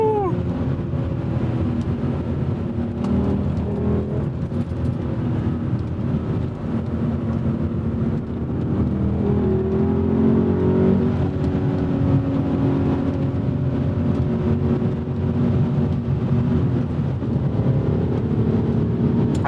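A 2002 BMW M5 E39 sedan with coilovers and mild OEM-plus modifications drives along under steady engine drone with rising pitch, a continuous loud interior-style rumble throughout.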